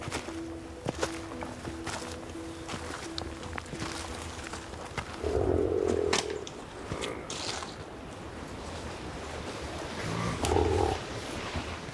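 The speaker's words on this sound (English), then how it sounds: "That's the sound of European bison that once roamed much of the continent" European bison in rewilded Romanian countryside give low, deep grunting calls in a couple of short bursts over steady outdoor background noise, moderately close.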